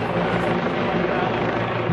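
A police helicopter drones loudly and steadily overhead during heavy snowfall, a dense continuous rotor roar with no pauses.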